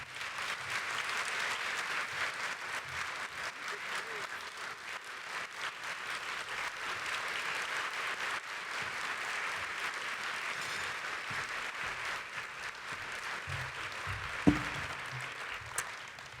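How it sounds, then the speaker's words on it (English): Sustained audience applause fills a breakfast fundraising event, a steady wash of many hands clapping at moderate distance with a couple of sharper claps near the end, no talking. "Please join me in another round of applause for Liv and Lily"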